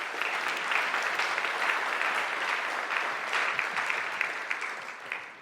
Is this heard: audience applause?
yes